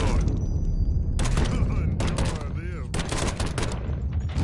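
Gunshots in the Mafia 3 Definitive Edition game, loud dense volleys of firing in several bursts with brief gaps, set against a steady noisy background.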